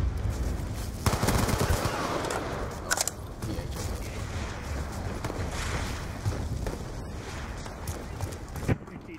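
Rapid automatic gunfire in a Black Ops 2 multiplayer match, sustained bursts of rattling shots over continuous game noise, with a player talking intermittently on top.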